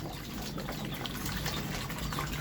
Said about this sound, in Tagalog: So tapon muna natin yung tubig kaninang umaga.